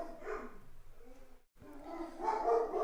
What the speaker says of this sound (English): I think the dogs are talking to each other.